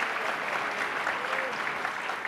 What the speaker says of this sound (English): So please give her a round of applause for joining us tonight too.